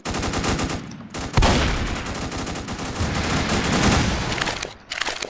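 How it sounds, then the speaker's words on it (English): Gunfire in the Roblox-style shooter game Strucid rattles almost nonstop, dense rapid automatic bursts that stay loud across the whole stretch, with a brief dip near the end. "he was shooting at me"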